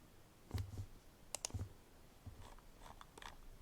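Several sharp mouse clicks in a quiet room while loading a file in a CSV/QBO to IIF converter program, a couple of close single clicks followed by fainter scattered ticks.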